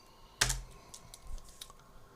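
A few soft keystrokes on a computer keyboard while working in Houdini software, led by one sharper tap cluster and followed by a couple of fainter clicks, quiet and close, with no voices.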